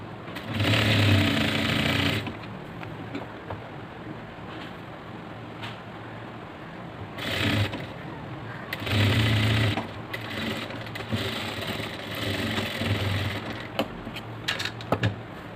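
A sewing machine stitching a chudidhar runs in loud, rapid whirring bursts, with a long run at the start and shorter runs later, separated by quieter handling noises.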